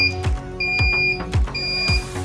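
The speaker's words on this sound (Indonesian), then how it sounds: "Jadi nanti outputnya adalah suara dari buzzer dan juga lampu LED." An electronic buzzer in an Arduino sensor simulation beeps in a steady, repeating pattern, roughly four evenly spaced tones over a couple of seconds, with no voice over it.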